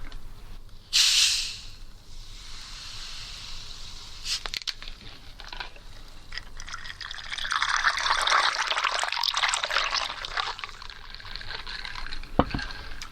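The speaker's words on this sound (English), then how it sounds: "Finally topping off with a good splash of soda water." Soda water splashes into a mojito cocktail in a glass, a close pour with an opening gush, then a fizzing, bubbling hiss that swells and lingers, ending with a small clink.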